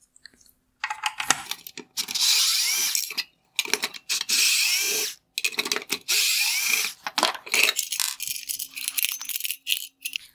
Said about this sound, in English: Now we can remove the three T20 torque screws holding in the projector to the bracket.